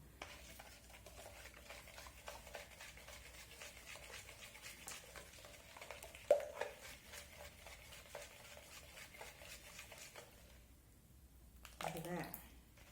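Yellow food coloring being stirred into a pretend snot mixture, a soft, steady scraping and swishing that runs continuously, faint and close, with a brief clunk midway and a voice near the end.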